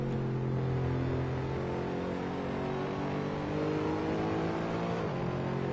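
A McLaren GT3 race car engine in a racing video game at Mugello drones steadily and loudly, holding a constant high rev with slight pitch shifts throughout.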